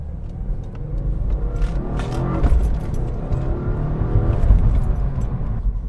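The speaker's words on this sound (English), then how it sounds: "does the GoPro always rattle like that?" A GoPro camera rattles and jangles inside a moving car, its light clatter riding over a steady low engine and road rumble that swells slightly as the car drives on.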